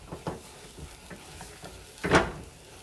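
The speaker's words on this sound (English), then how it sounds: "Start moving it and mashing it around because you need to cook the flour out." A spatula stirring and mashing thick churro dough in a pot, producing a series of soft, irregular scraping thuds with one louder scrape near the end, close and without talk.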